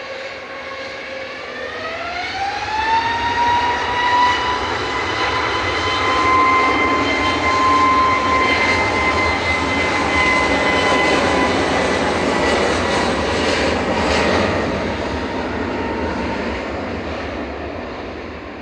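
Jet2 Airbus A321neo taxiing at Manchester Airport, engines whining with a rising tone that climbs early then holds steady, a loud close-by drone with a broad roar beneath.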